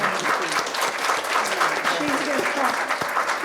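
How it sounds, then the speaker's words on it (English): Audience at a Head Start event claps in sustained, even applause throughout, with voices murmuring beneath the clapping. "I just think we should all give her a tremendous applause."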